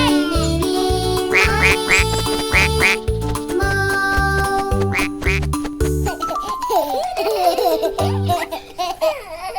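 A cartoon duckling from a farm-animal nursery rhyme quacks in a quick, close, loud run of bright, wavering calls, following a bouncy, steady-beat children's music backing that fades as the quacking takes over.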